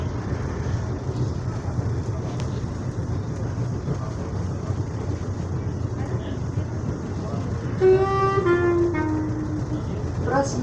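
Série 7000 commuter train running between Barueri and Quitaúna, a steady loud rumble of the ride throughout, joined near the end by a brief rising tonal whine or horn-like sound.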